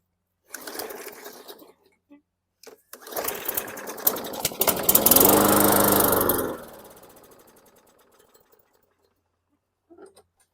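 A 2018 Bolens lawn mower, turned upside down, coughs with a few short sputters, then its small engine catches and rattles loudly for a few seconds before winding down into silence.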